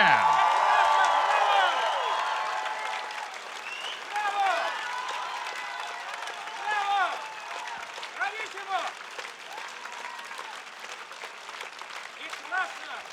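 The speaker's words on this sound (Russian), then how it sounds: "Сергей Полунин, ваши аплодисменты громче!" An outdoor park crowd applauds a ballet star after a performance, dense clapping with cheers and whoops at first that thins and fades into scattered claps, with a voice over a loudspeaker.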